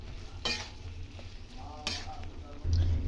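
Oats and vegetables are stirred in a pan on a gas stove, with a soft steady sizzle and a few scraping strokes of a spoon against the pan, close and fairly quiet.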